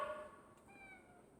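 A pet cat gives one faint, short meow, thin and quiet against a soft indoor background.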